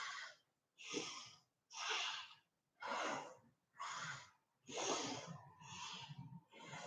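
Rapid yoga breathing at Kapalabhati pace, with seven forceful, close breaths in a quick, even rhythm, each a loud airy rush separated by brief silences, with no talk.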